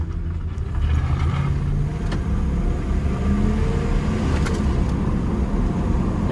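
A 1999 Dodge Dakota pickup's V8 engine pulls steadily while driving, a continuous low rumble with a faint mechanical whine and no talking.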